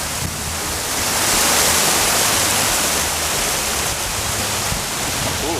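A waterfall beside a mountain hiking trail in the White Mountains of New Hampshire rushes steadily with a loud, broad, unbroken roar that swells slightly and holds through the whole clip.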